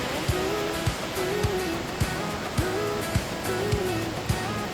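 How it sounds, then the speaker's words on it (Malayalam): Fast-flowing runoff water rushes past a hill road in Ambanad during heavy rain with landslide risk, a steady broad roar with regular soft knocking underneath, heard alone without talk. "നല്ല സ്പീഡിലാണ് വെള്ളം ഒഴുകിക്കൊണ്ടിരിക്കുന്നത് കേട്ടോ."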